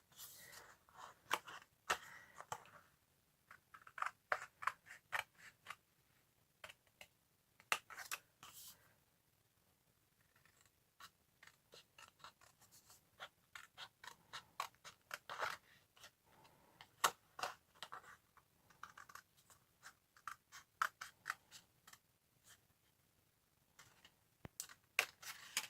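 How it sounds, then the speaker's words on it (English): Scissors snipping through two layers of cardstock while making a pop-up concertina card, a run of quiet, sharp clicks and crisp cuts in irregular bursts, close and faint, with no talking. "take your scissors and cut along there"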